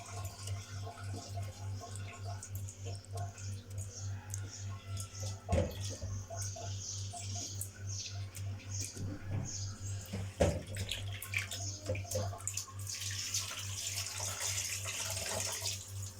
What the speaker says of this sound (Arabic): نغسلها تاني كويس قبل ما نرصها